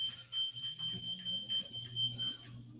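A walking pad gives a quiet electronic beep, held as a thin steady tone with short gaps, over a low motor hum.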